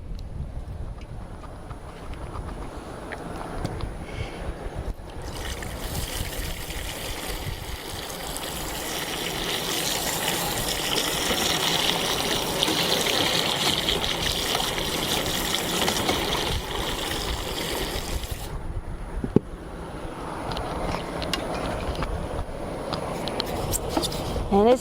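Water drains and trickles out of a Coleman air conditioner on an RV during cleaning, a steady splashing wash that builds louder through the middle and then thins to a lighter dribble.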